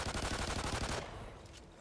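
Gunfire in Call of Duty Ghosts Extinction: a rapid, steady automatic burst lasting about a second, loud and close, then it stops and leaves a fading tail.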